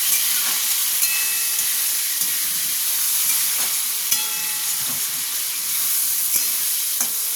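Raw melon and prawns sizzle and spit steadily in a hot frying pan, a loud continuous crackling hiss with occasional stirring clicks and no voices.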